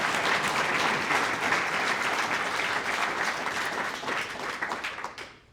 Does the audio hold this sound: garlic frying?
no